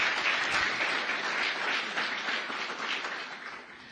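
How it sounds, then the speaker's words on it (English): A steady round of audience applause greets senators arriving on stage at a COP 28 climate action panel. The clapping is dense and continuous and tapers off slightly toward the end, with no talk. "Round of applause."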